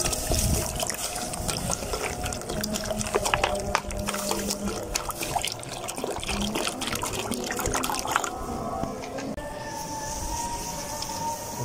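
Water is poured and trickled in a kitchen while Kashmiri pink tea is being made, a steady liquid splashing and dribbling that runs throughout at moderate loudness with some clatter.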